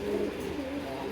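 A Giachuli pigeon gives a brief, low, throaty coo, close and fairly soft, heard over a light background hum.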